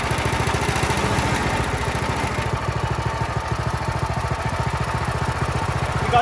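A homemade go-kart's small, already warm engine runs steadily and close, with a fast, even chugging putter and a rattling, lawn-mower-like tone throughout, no voices over it.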